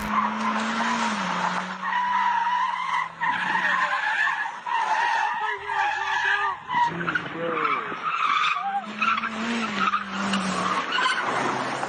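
A stolen car being whipped around hard, its tires squealing in long sustained skids that rise and fall across the clip, loud and close, with engine noise underneath.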